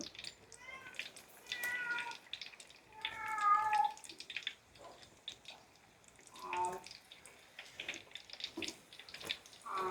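A voice imitates a cat's meow several times, with running water from a tap splashing in the background.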